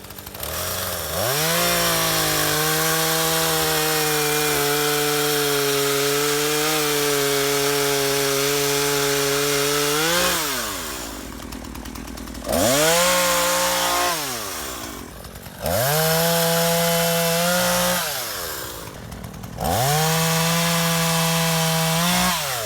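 A Husqvarna 120 Mark II 16-inch gas chainsaw cuts wood outdoors, its engine droning loud and close, dropping to idle and revving up again in several bursts.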